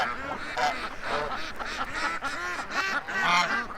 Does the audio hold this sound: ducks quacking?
yes